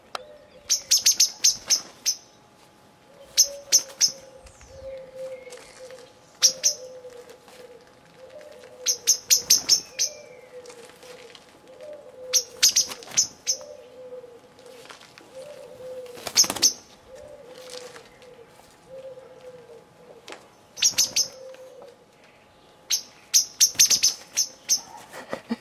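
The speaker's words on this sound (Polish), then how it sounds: "Kosy atakują." Eurasian blackbirds give repeated sharp, high chattering alarm calls in short bursts roughly every few seconds, fairly close, with a softer low cooing bird in the background between them and no talking.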